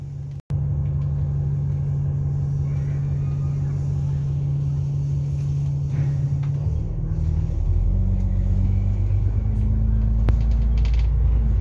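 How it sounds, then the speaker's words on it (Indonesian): A route 68M bus engine rumbles steadily close by, heard from inside, then its low drone deepens and grows heavier as the bus slowly pulls away from Yuen Long station. "Bis dengan pelan-pelan sudah mulai berjalan"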